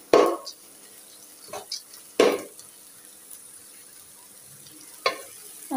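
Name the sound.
polao rice frying with onion, cardamom and cinnamon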